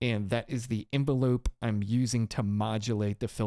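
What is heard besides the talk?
No everyday noises stand out.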